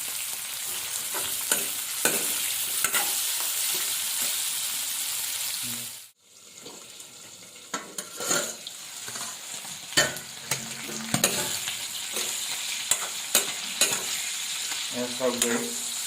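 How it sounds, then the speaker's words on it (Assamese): Pork sizzling in a hot wok for a Mising home dish, a steady crackling hiss broken by a short drop-out midway, then resuming with scattered scraping knocks from the spatula, close and unaccompanied by speech. "এতিয়া মাংসটো ফ্ৰাই কৰি দিম"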